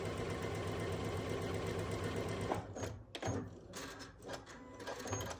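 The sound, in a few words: sewing machine stitching quilt block rows together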